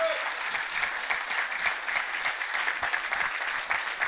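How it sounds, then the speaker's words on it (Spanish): Congregation clapping in praise to the Lord during a church Bible study on Exodus; brisk, steady applause with distinct individual claps, sustained throughout. "Dele palmas al Señor, hermano."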